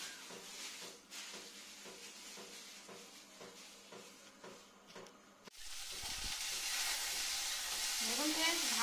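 Bitter gourd and potato frying in a pan, a quieter stretch giving way midway to a loud, steady broadband sizzle, with a brief voice near the end.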